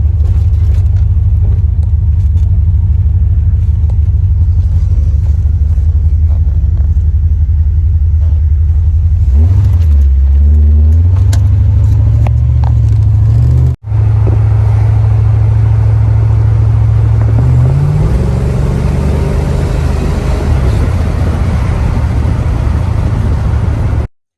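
A car engine after a Seafoam treatment, droning loudly up close with a deep rumble, revving up and down midway, then a brief cut before the engine continues idling and rising again.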